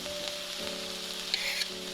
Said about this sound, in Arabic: غادي نخلط كاع هاد المكونات ونخليهم يتشحروا مزيان